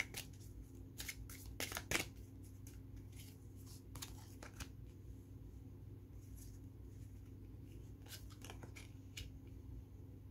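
Tarot cards shuffled and drawn for a love reading, giving scattered brief papery riffles and snaps over a steady low room hum, with no talking.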